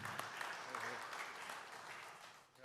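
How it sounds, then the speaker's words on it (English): A round of applause at a cultural and musical reconciliation showcase, a crowd clapping steadily but faint and distant, with voices mixed in. "Let's give him a round of applause"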